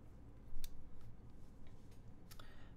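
Mechanical keyboard with Gateron switches on a half FR4 plate, programmable PCB build, giving quiet scattered clacks and a few sharper key strikes, soft and close with low background hum.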